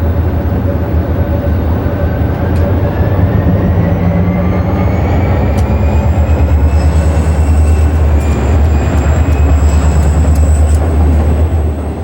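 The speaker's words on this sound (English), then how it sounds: "An Oak Island to Conway freight rolls westbound along Turtle Creek as it passes through Pitcairn" Conrail Oak Island to Conway freight train rolling westbound along Turtle Creek through Pitcairn, with a steady loud rumble of locomotives and railcars and faint high wheel squeals throughout, no talk.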